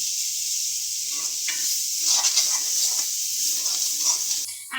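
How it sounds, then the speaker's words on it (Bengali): A mashed mix of fish, jackfruit seeds, potato and pointed gourd being fried dry in a pan, giving a loud, continuous hiss with faint scraping stirs beneath it. "এখানে একদমই ভাজা ভাজা করে নেব রস থাকবে না"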